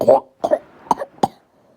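Several sharp, harsh coughs in quick succession, close by, with short gaps between bursts, sounding like someone choking and hacking something up.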